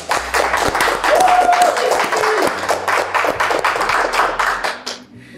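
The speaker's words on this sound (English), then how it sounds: "Okay, round of applause." A loud round of applause from a small audience, dense clapping with a brief whistle-like tone and some voices mixed in, tapering off sharply at the end.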